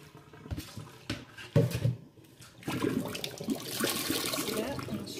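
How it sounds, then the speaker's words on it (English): Water running from a tap while dyed angora goat fiber is rinsed in a sink, a few clinks and splashes, then a steady stream of rushing water as someone speaks. "I can do another rinse, but I'm not gonna, only because it's pretty clear, the water, as I'm rinsing it out"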